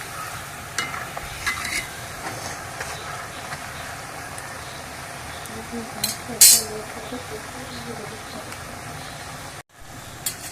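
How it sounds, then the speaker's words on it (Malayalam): Pakoda batter squeezed into hot oil fries with a low, steady bubbling hiss for several seconds, joined by a couple of sharp metal clinks from a ladle against the pan. "ഇനി നമുക്ക് എണ്ണയിലേക്ക് ഇത് പിഴിഞ്ഞ് ഒഴിച്ചു കൊടുക്കാം"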